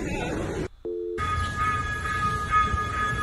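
A small mini train rolls along a New York City street with kids aboard. A steady whistle-like tonal hum sits over dense street noise, after a brief pause in which a short electronic beeping tone is heard.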